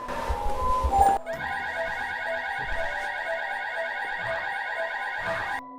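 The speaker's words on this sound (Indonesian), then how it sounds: "Alarm tiba-tiba saja bersuara, seolah-olah Peter adalah anomali yang baru saja muncul." An alarm suddenly goes off at a company headquarters, a steady, loud, pulsing electronic tone that cuts in after a low rumbling opening and sounds continuously to the end.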